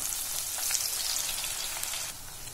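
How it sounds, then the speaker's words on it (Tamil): Sliced onions frying in hot oil for a dum fish biryani, a steady broadband sizzle and crackle that holds evenly throughout at moderate level, with no voices. "அதை வந்து அந்த எண்ணெயில் வந்து சேர்த்துக்கலாம்"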